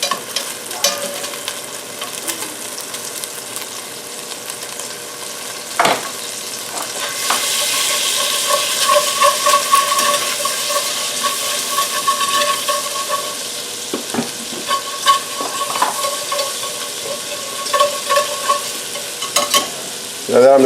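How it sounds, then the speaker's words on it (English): A couple of tablespoons of butter melting and sizzling in a pan before flour goes in for a roux, a steady close frying hiss with a few soft clicks and scrapes, no talking. "a couple good tablespoons of butter. And let that melt out."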